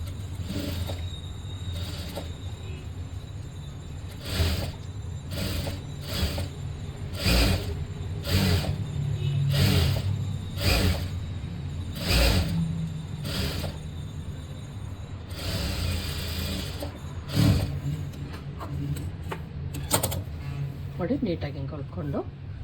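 A sewing machine stitches and hems an embellished blouse, running in repeated short mechanical bursts with brief pauses between them, fairly close and steady over a low background rumble.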